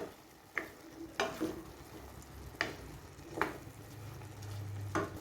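Soaked basmati rice being sautéed in a pan for mushroom pulao, a faint steady sizzle broken by several distinct scraping knocks of a spoon at uneven intervals.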